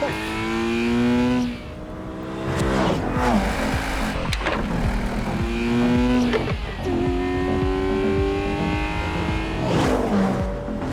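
A 2025 Corvette ZR1 launches in a drag race, its engine screaming up through repeated rising revs broken by sharp gear-shift drops, loud and close, with no talk.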